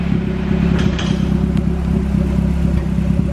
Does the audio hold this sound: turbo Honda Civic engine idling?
yes